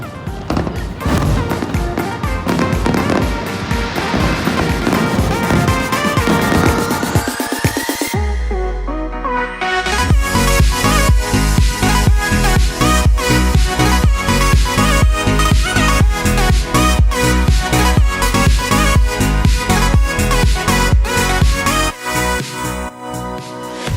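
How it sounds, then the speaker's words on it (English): A fireworks display in Dubai plays out as a loud, dense wash of sound. Sharp bursts come first, a brief lull follows, and then a sustained barrage of rapid crackling pops continues to the end. "Pretty incredible fireworks, Dubai style."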